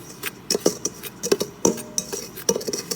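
A spoon stirs cinnamon into a mixture in a bowl, making quick, light clinks and scrapes of metal against the dish in an uneven rhythm, close up, with no voices.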